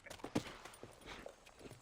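Horse hooves clip-clopping in the Western video game Red Dead Redemption, a quiet, uneven run of soft thuds over roughly two seconds with faint background game ambience and no talk.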